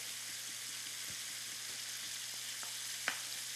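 Bacon frying in a skillet, a continuous bright sizzle with soft crackles and a few taps of a wooden spoon spreading it, one sharper clack near the end.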